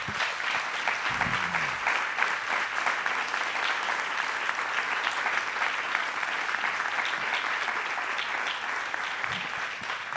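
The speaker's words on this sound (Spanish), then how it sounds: "un fuerte aplauso aquí a ellos" Applause from the audience at a live humor roundtable event, a dense steady clapping that fills the whole stretch without pause, loud and close.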